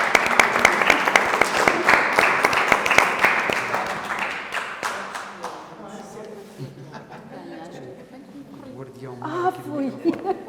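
Audience at an informal literary talk gathering claps warmly for several seconds, crisp distinct hand claps that thin out and fade, followed by chatter and light laughter.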